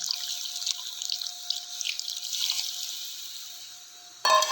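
About a litre of water is poured into a kadhai of mutton, a steady splashing gush that continues for several seconds, close and fairly loud, ending with a brief louder clatter.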